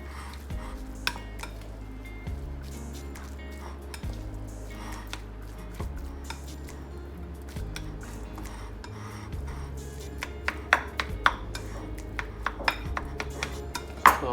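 Rice seasoned with rice wine vinegar and salt is mixed in a bowl for onigiri, soft squishing and scraping with scattered clinks of a utensil against the dish, quiet over a low music bed and growing more frequent toward the end.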